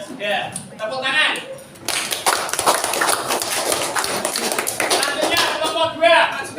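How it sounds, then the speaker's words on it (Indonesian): Students in a classroom break into applause, a burst of dense clapping that fills several seconds between stretches of talk at either end. "Tepuk tangan."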